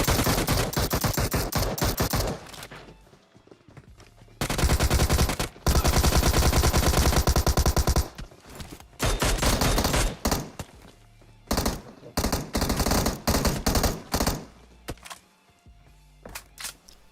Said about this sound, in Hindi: इसी घर के छत से कोई टोमी चला रहा है।